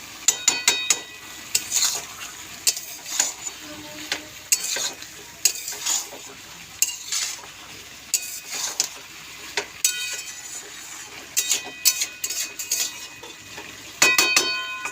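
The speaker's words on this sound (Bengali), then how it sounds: "একটা টমেটো কুচি দিয়ে ভালো করে কষে নিতে হবে" Chopped tomato sautéing with ginger and cumin paste for a vegetarian spinach curry, heard as constant sizzling punctuated by frequent rhythmic scrapes and clinks of a spatula stirring against the pan, close and fairly loud, with no talk.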